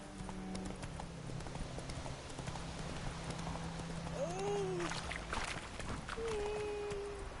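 Hoofbeats of the horse Roach in The Witcher 3: steady clip-clop at a trot, close and moderately loud, over outdoor ambience with a low rain-like hiss, a short voice-like call and background tones.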